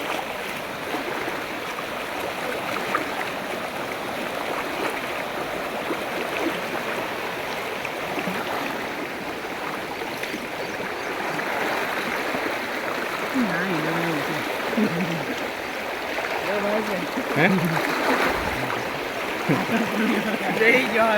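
Strong floodwater rushing steadily after rain near Mahuva village, Bhavnagar, a continuous broadband roar of flowing water close by, with a voice talking over it in places.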